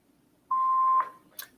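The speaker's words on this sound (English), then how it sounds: "Please leave your name and phone number after the beep." Answering machine beep: a single steady electronic tone lasting about half a second, clear against a quiet line, followed by faint handling noise.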